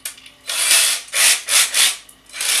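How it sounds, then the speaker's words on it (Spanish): Cordless power drill with its clutch set to the lowest torque, used during guitar maintenance on a Squier, whirring and ratcheting in four or five short, loud bursts separated by brief pauses. "el taladro está en el embrague"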